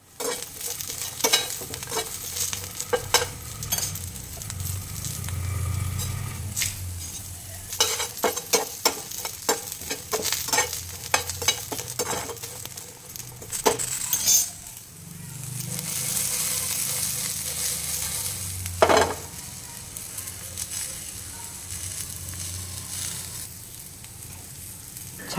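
Onion, coriander, garlic, coconut, curry leaves and green chilies roast together in a pan, giving a steady dry sizzle broken by many quick scraping stirs of a spatula, close and clear, with no talking.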